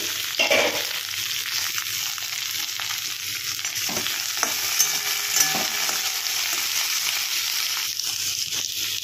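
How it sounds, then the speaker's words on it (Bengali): Mourola fish frying in a pan for a coriander chorchori, a steady loud sizzle running throughout with a few scraping stirs and clinks close by, no talking. "দেখি ভাজাটা কত হলো।"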